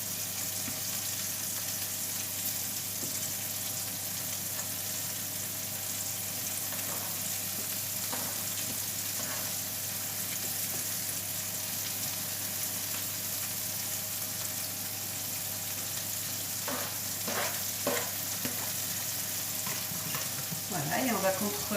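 Beef meatballs and onions fry in a pan with a steady, faint sizzle throughout, and brief scraping stirs come through now and then, clustered toward the end.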